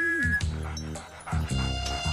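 A dog yips and whimpers in a scene from the 1999 Bollywood comedy film Baadshah, with close, high-pitched cries coming in short repeated bursts over a steady tonal background.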